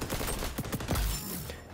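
Rapid automatic fire from an M4A1 rifle in the shooter XDefiant, a short close burst of shots in quick succession that trails off near the end.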